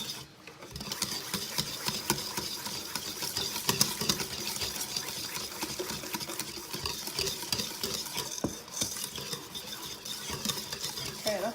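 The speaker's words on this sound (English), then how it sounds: "Whisk that all together." Pumpkin roll batter whisked in a bowl, a steady busy scraping and rattling that runs continuously and fairly close, with no talk over it.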